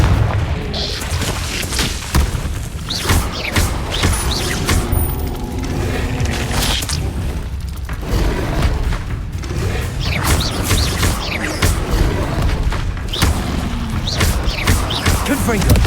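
Repeated booming fire-spell blasts from Confringo in Hogwarts Legacy go off at a busy, uneven rhythm, loud and close, mixed with other game combat sounds throughout.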